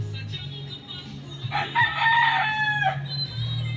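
A young fighting rooster, about nine months old, crows once loudly and close by, a drawn-out call over a steady low mechanical hum.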